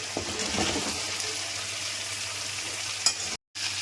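Vegetables frying with panch phoron, grated ginger and green chili, a steady hissing sizzle with light stirring scrapes and a brief clink, close up, broken by a short cut to silence near the end.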